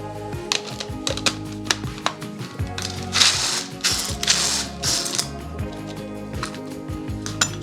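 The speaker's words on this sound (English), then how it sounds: "I'm gonna put them in my little handy dandy chopper." A hand-operated food chopper clacks and rattles in repeated mechanical bursts, ratcheting clicks and crunching as pecans are roughly chopped, close by.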